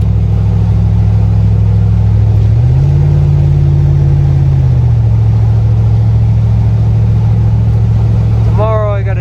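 An old beater car's engine rumbles loudly after a cold start, its pitch rising in one brief rev near the middle before settling back to a steady drone, with a short squeal near the end.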